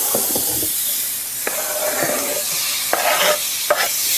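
Chunks of wheat protein sizzle steadily in a hot skillet, a dense close frying hiss broken by a few stirring scrapes and taps, with no voices.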